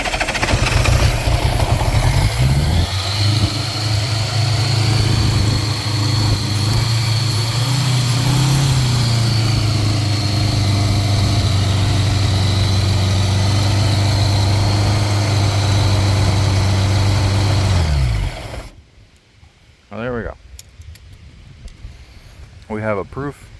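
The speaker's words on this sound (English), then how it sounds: "She doesn't want to idle very well. Let me give it a little bit of throttle." A Honda Goldwing motorcycle engine runs close and loud with a deep, uneven idle and a few throttle blips that raise the pitch, then shuts off, leaving a person talking.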